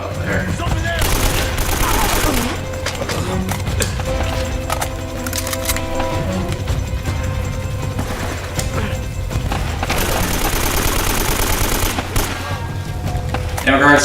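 Bursts of automatic gunfire and single shots echo through a third-person action shooter, Uncharted: Drake's Fortune, loud and near, with rattling volleys, mechanical clatter and music-like tones underneath across the stretch.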